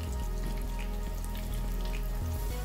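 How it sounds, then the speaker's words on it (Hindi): Potato pieces frying in hot oil for aloo anday ka salan, a steady, even sizzle with a low background hum and no speech. "आलू को थोड़ा ज़्यादा मैं फ्राई करूँगी"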